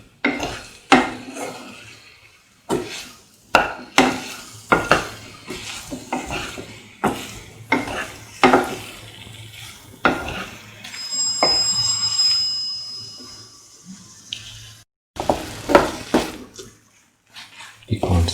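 Mango plantain stew being stirred and sautéed in a pot: repeated scraping strokes and clinks of a spoon against the pot, in uneven bursts, with a light sizzle underneath and a few brief pauses.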